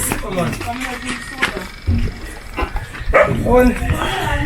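A dog gives a few short barks and whimpers nearby at a roadside fire, mixed with someone talking over it.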